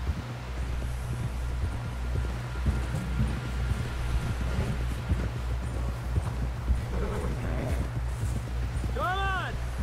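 Horse hooves clip-clop steadily in Red Dead Redemption 2, a continuous rhythmic gait heard under game dialogue and a low background drone.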